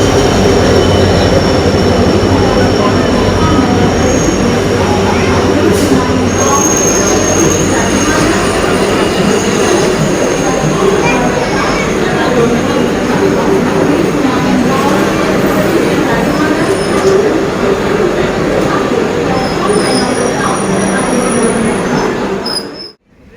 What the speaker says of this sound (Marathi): तर ट्रेन तर आपल्याला आली आहे, ट्रेनने आगमन केलेलं आहे.